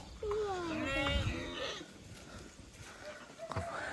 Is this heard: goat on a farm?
yes